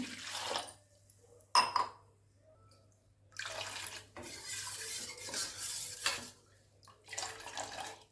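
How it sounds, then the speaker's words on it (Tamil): Millet flour being stirred into water for porridge, with soft swishing and scraping strokes in a vessel coming in uneven bursts, plus a brief clink, close and fairly quiet, with no talking. "ஒரு டம்ளர் ஊற்றி கரைச்சிட்டுங்க இன்னொரு டம்ளர் ஊற்றுவோம்"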